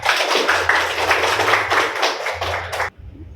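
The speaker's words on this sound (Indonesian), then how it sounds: "tepuk tangan untuk Natasha dan Ravindra" Students in a classroom clap for two classmates, a dense patter of hands lasting about three seconds before stopping abruptly, with a low hum underneath.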